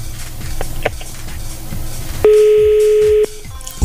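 Telephone ringback tone from an outgoing call that goes unanswered, one long steady electronic tone after faint background sounds, loud and clear in a podcast studio.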